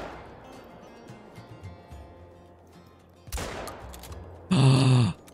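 Shotgun blasts in the hunting video game Call of the Wild: quiet outdoor ambience, then a sudden sharp blast, followed a second later by a louder, sustained crack with a ringing tail, close and with no voices.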